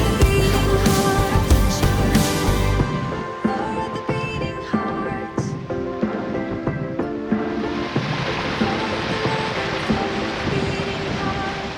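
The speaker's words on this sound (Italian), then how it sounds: "Guardate dove ci ha portato questo sentiero, proprio sotto questa piccola cascatella" Small waterfall pouring beside a hiking trail in Scotland, a steady broadband rush of falling water that stays loud and close throughout, with brief bumps of handling or wind noise over it.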